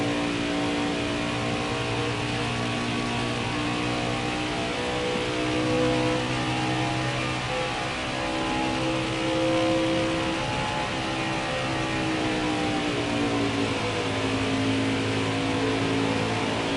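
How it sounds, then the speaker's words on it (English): Craftsman Truck Series race trucks roar around Charlotte Motor Speedway, a loud sustained engine drone with layered, shifting engine tones as several trucks accelerate together, no voices over it. "Some of these trucks will go 2 laps down because he's just so much faster than Ben Rhodes right now."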